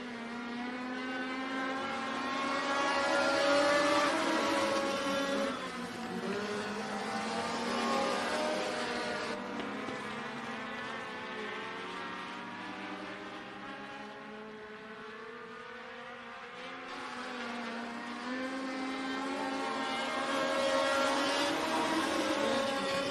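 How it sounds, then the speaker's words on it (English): Several dirt track race cars battling in a heat race at Benton County Speedway, engines droning and swelling continuously as they pass, heard from a distance with no talk. "5 cars all battling it out."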